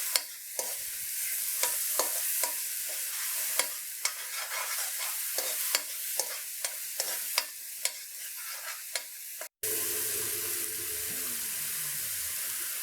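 Onion with ginger garlic paste sizzles in a pan while a spoon stirs and scrapes in repeated sharp knocks, close and continuous, then the sound cuts to a quieter, different background near the end.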